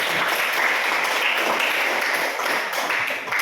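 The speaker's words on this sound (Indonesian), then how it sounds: "kasih tepuk tangan" Classroom applause from a group of students during a biology lesson on virus replication, a dense steady wash of clapping hands throughout, fairly loud and close with no talk.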